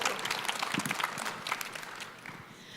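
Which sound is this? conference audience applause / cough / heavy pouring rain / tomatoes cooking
conference audience applause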